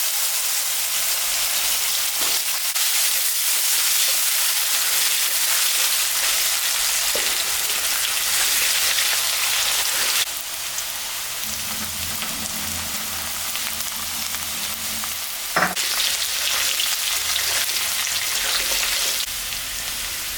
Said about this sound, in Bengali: আলুটা একটু ভাজে নিতে হবে